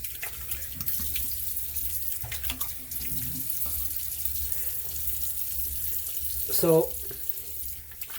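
A bathroom tap runs steadily as a Gillette razor is rinsed under it, with brief splashing as the blade passes through the stream. Someone says a word under the water.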